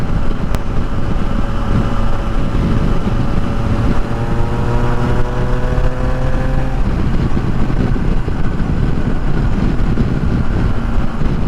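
A Triumph Tiger 660 Sport three-cylinder motorcycle engine rumbles loud and close from its exhaust, revving up and down at first, then settling into a steady, throbbing drone with wind noise.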